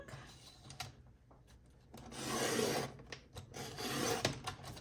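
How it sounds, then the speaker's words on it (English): Pink cardstock is sliced on a paper trimmer for scrapbooking, making two broad, rasping passes of the blade, each lasting about a second, with quieter handling sounds around them. "I'm gonna go ahead and trim off this little bit of pink on the bottom of my cardstock"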